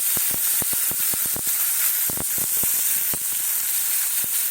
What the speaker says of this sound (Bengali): গোটা গরম মশলা দিলাম আর পেঁয়াজ আর টমেটোটা দিয়ে দিলাম